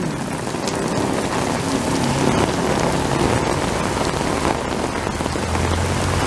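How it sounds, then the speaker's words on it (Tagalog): Heavy rain pours steadily in a dense, unbroken hiss of drops hitting surfaces, loud and close, with no voices. "kung gaano kalakas yung ulan yan ang ulan"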